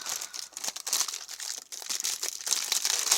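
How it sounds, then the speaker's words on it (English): Plastic packaging bags crinkle and rustle in irregular, crackling bursts, close up and fairly quiet, with no talking. "They are killing me with these plastic bags."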